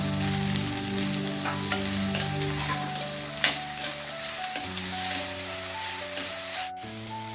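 Onion, ginger, garlic and eight hot dried red chillies frying in oil in a clay pot for a village-style chicken curry, a steady close sizzle with occasional stirring scrapes and a faint musical tone running underneath.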